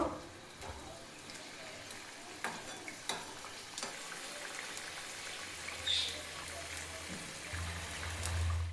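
Thick, spicy bhangor fish curry broth boiling in a pan over raised heat. A soft, continuous bubbling simmer is heard with a few faint clinks, quiet and steady with no voices.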